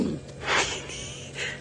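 A low, breathy impala ram snort blending into a grunt, one burst near the start and a softer one toward the end, close and moderately quiet.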